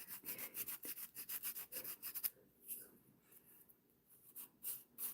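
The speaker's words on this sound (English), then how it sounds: "Same when you're filing." Hand filing of acrylic nails during a nail technician's dual-form acrylic work: a quiet, rapid run of rasping strokes for about two seconds, then softer, sparser scraping strokes, all faint and close with no talking.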